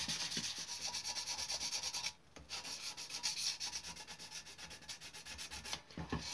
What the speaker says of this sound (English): Trying to get the sandpaper in between the rivet heads